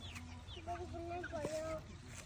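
A chicken on a small home acreage gives faint, short clucks against a quiet outdoor background, with soft voices nearby.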